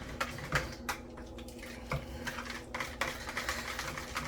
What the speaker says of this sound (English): I'm going to keep stirring this for as long as that I can before it seizes up on me